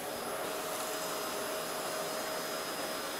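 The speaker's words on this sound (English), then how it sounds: "So I'm going to hoover up the crumbs." A hoover vacuum cleaner runs steadily, sucking crumbs off a table, with a constant broadband whoosh and a faint high motor whine, continuous and close throughout with no talking.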